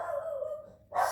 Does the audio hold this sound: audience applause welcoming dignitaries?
no